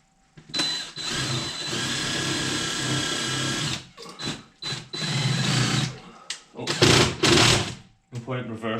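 A power drill drives long screws into insulation board while a bay window is insulated and boarded, with sustained whirring runs, short stop-start bursts and brief pauses, loud and close.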